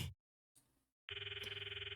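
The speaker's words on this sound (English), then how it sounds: "I stop the video and might call Mayuri's phone from my address book" A phone rings during an outgoing call in the visual novel game Steins;Gate. After a short quiet gap, a soft electronic ringtone pulses in a steady repeating pattern.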